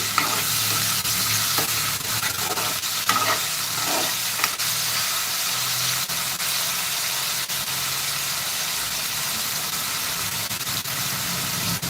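Mutton stir-fried and mixed in a pan, with a steady loud sizzle and the scrape of stirring running throughout, close by with no talking.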